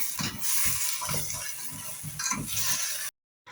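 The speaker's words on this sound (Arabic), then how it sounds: "هسه راح أديرها على صدر الدجاج وهم نحمس" Chicken breast seasoned with salt, turmeric and curry sizzles loudly in a hot pan, with rhythmic scraping from stirring, before the sound cuts off abruptly near the end.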